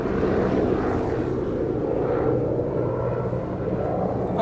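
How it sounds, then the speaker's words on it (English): A helicopter flies overhead on a noisy day during an outdoor workout, its broad steady rotor-and-engine roar filling the air with no talking. "Now we got helicopters going. It's a noisy day."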